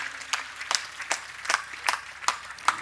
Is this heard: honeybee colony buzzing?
no